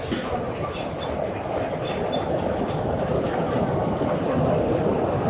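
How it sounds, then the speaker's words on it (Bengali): A train crosses the Padma Bridge at a holiday park, heard as a steady, loud rumble lasting throughout with no clear breaks. "আর একটা ট্রেন যাচ্ছে পদ্মা সেতুর উপর দিয়ে একটা ট্রেন"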